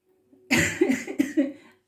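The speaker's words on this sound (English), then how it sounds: "But they're making me cough." A person coughs in a quick cluster of three or four harsh, close bursts, then falls silent.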